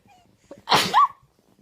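A baby gives a single short, close sneeze, a quick intake followed by a sharp burst, in an otherwise quiet room.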